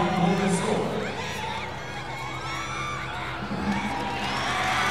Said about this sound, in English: the crowd obviously erupted